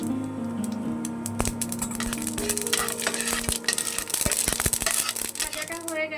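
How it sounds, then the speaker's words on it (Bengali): Dried chilli, nigella and mustard seeds tempered in hot oil for a radish dal, a loud continuous crackling sizzle with sharp popping bursts as the seeds hit the oil, plus spoon scrapes and a low steady hum beneath. "আর একটু সর্ষে ফোড়নে দিয়ে দিচ্ছি আমি।"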